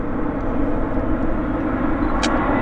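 A passenger airliner landing at Vancouver airport at sunset, a steady broad engine roar heard from a distance that stays even throughout, with a brief higher tone near the end.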